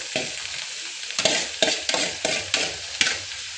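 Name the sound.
sautéing onions with greens in a pan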